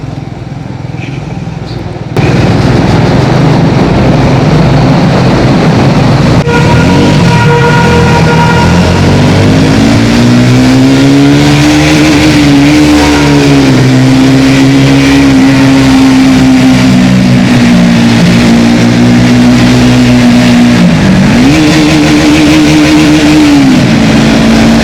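Triumph Speed 400 motorcycle exhaust note echoing inside a tunnel on a mountain road, a loud sustained engine drone that rises and falls with throttle changes, alone with no talking, after a brief quieter start.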